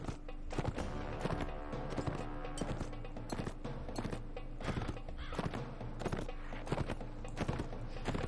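Horse hooves in the Mount & Blade video game clatter in a steady, dense clip-clop, close and loud, with repeated whinnies and neighs mixed through the whole stretch.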